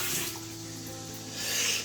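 Water runs steadily from a tap in a small one-room apartment bathroom in Seoul's Nowon district, a close, continuous splashing hiss that swells slightly near the end, with no talking.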